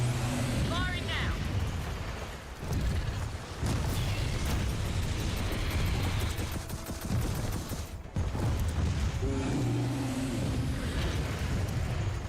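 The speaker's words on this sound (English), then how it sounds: "Rockets are away!" Loud, dense Gears of War 4 battle noise with repeated booming blasts and bursts of fire from a rocket launch and explosions, continuous throughout, with a brief dip near the middle and voices shouting over the combat.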